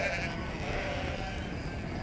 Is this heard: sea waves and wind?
no